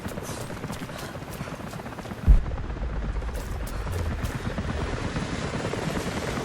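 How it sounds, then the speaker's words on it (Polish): A helicopter's rotor thumps steadily throughout in Rise of the Tomb Raider, a loud low chopping drone with a brief heavy impact partway through. "Czy ja słyszę helikopter?"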